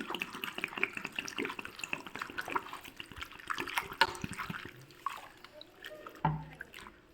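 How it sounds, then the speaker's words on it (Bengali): Raw potatoes being washed by hand in a bowl of water, with continuous splashing, sloshing and trickling close by and a few sharper knocks and splashes near the end; no talking. "এই বাটিটার মধ্যে আমি আলুগুলো দিয়ে আলুগুলো ধুয়ে নেব"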